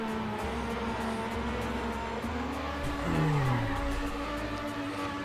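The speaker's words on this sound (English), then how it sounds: "On the rally especially, the cars are a bit louder" Rally car engines in a racing video game hum in a steady drone whose pitch slides and shifts as the cars accelerate, with a moderate, continuous level and no voices.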